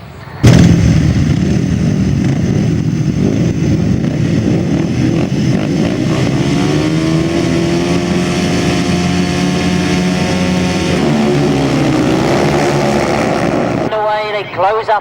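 Grasstrack racing motorcycles at a 1999 British Masters meeting roaring together in a loud, sustained pack, engines rising in pitch as they accelerate into the first bend, with a commentator talking over the noise.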